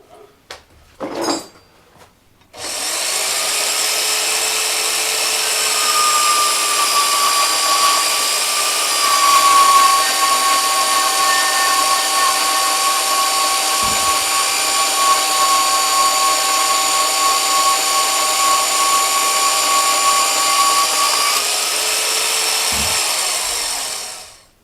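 Bandsaw trimming about an eighth to a quarter inch off a steering column part, running steadily with a sustained whine for about twenty seconds, close and loud, then spinning down.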